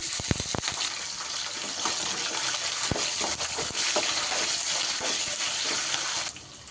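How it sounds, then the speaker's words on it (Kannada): Curry leaves and green chillies, with peanuts, frying in hot oil for garlic rasam: a dense, crackling sputter with sharp pops at the start, continuing steadily close by before dropping off at the end. "ಈಗ ಇದನ್ನು ಸ್ವಲ್ಪ ಫ್ರೈ ಮಾಡ್ಕೋಬೇಕು ಈಗ ಸ್ವಲ್ಪ ಕರಿಬೇವು ಹಾಕೊಳ್ತಾ ಇದ್ದೀನಿ"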